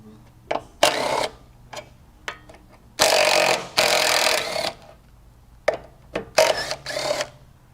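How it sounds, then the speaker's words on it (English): Pneumatic air tools in a car repair shop working on a VW Beetle during a radiator replacement: loud sharp bursts of impact-gun rattling, short and long, separated by quiet pauses. "Sound of air tools."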